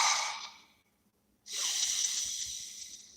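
A deep breath taken alone and close: a long drawn inhale, a second of silence, then a long steady exhale.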